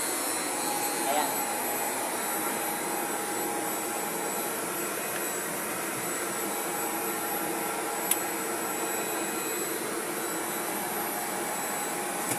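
After a single-phase electrical repair, an electric blower motor runs with a steady, loud airy whoosh and hum, unchanging throughout apart from a faint click.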